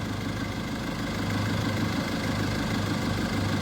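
An old, classic small dump truck idles steadily up close, its mid-to-low engine rumbling with a faint knocking pulse throughout and no voices over it, at a dirt-hauling site near Tha Yong, Chanthaburi.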